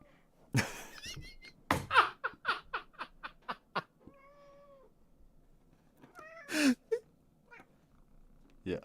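A pet cat meows repeatedly in a string of short rising and falling calls, then a longer drawn-out meow, while people laugh and react softly in the room.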